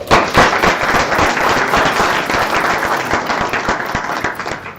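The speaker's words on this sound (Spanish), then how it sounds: "así que también un aplauso" An audience at a book presentation claps in a dense burst of applause, loud at first and tapering slightly over a few seconds, with crisp individual hand claps standing out.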